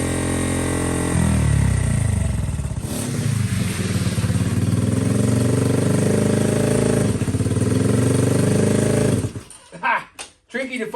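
A Honda XL70 K0 small motorcycle engine runs steadily with a buzzing, rising and falling drone up close, shifting in pitch before cutting to choppy sputters near the end, with talking over it.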